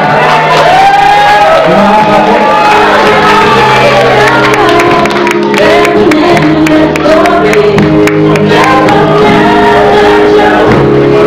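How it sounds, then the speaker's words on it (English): Loud applause and cheering from a crowd of guests at a civil ceremony, with shouts and whoops throughout and continuous clapping filling the room. "Round of applause for him."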